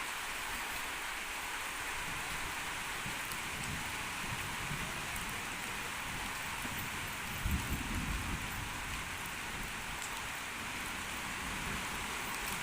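Steady rain hisses continuously nearby, with a brief low rumble partway through, and no voices.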